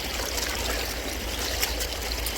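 Water of Hazar creek near Ankara flowing and trickling in a steady, soft, close-by wash with no voices, constant for the whole stretch.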